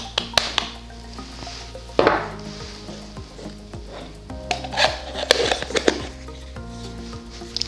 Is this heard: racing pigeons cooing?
no